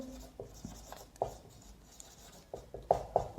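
Marker or chalk tapping and scraping on a board in short irregular strokes, close and moderately loud, with brief pauses between marks and no one speaking.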